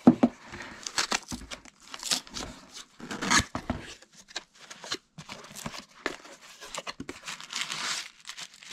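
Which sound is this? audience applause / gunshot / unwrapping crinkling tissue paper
unwrapping crinkling tissue paper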